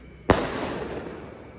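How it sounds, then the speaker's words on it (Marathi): A single firecracker bomb bursts with a sharp, loud crack outdoors at night, then a rumbling echo fades slowly across the next second and more. "आमचा एकच बॉम्ब उरलाय आता तो बॉम्ब फोडू"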